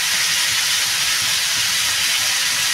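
Ash gourd fries in a pan with a steady, loud broadband sizzle and hiss that holds unchanged from start to finish, with no voices over it.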